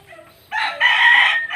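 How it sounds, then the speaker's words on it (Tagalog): A rooster on a farm where many chickens are kept tied up gives one loud, close crow lasting about a second, with a short pause partway through. Faint background clucking can be heard before it begins. "Ayun, puro manok ito oh."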